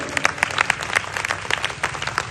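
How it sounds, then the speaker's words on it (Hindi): An audience claps loudly at a public talk: crisp individual hand claps stand out over a broad crowd ovation, irregular and close, without any talking. "एक बार जोरदार ताली बजा दिया जाए।"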